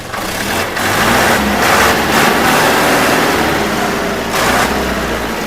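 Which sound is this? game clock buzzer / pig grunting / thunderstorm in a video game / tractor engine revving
tractor engine revving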